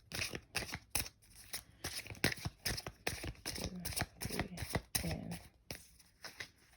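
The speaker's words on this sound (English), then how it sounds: "I have to shuffle these really good" Close, crisp riffling and slapping of tarot cards being shuffled repeatedly in quick bursts, with soft rustling between them.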